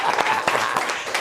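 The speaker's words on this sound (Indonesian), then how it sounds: "Tepuk tangan bagi Yesus." Church congregation applauding during a worship service, a dense wash of clapping from many hands with scattered sharper claps, steady and fairly even through the short moment.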